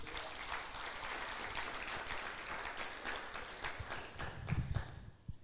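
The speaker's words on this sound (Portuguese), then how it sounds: "Aplauda o Senhor por isso." A church congregation claps during a sermon on the four species of Sukkot, a moderate, fairly quiet patter of applause that thins out and fades toward the end.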